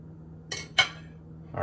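Cutlery clinks against a plate while cutting into a sweet potato breakfast hash with egg, two sharp light taps close together followed by a third softer scrape, quiet between them.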